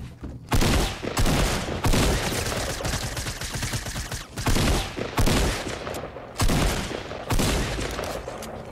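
Sustained gunfire from a Fortnite match, with several loud, dense bursts of rapid shots separated by brief pauses, close and dominating throughout, with no talk.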